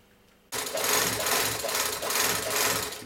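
A second-hand GN-2 overlock sewing machine kicks on after a brief quiet moment and runs continuously, a loud, steady, close mechanical whirring and rattling drone with no one talking.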